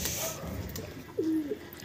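Domestic pigeons in a rooftop loft setup giving a single soft cooing call near the end, faint and close, over a steady outdoor background hiss.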